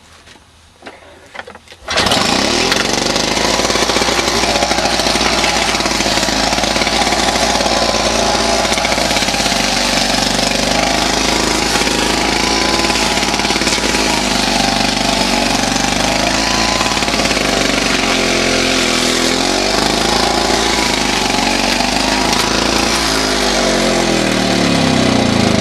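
A Victa Power Torque petrol lawn mower, recently repaired after failing to start, starts after a brief quiet moment and then runs loud and steady close by while cutting grass at an old burn spot.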